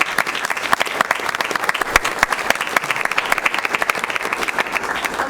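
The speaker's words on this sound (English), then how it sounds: "please, everybody give these gentlemen a round of applause for all the work they do" An audience in a city council chamber in Westminster, Colorado gives a loud, dense round of applause for the aquatics staff, many hands clapping steadily and close for the whole stretch.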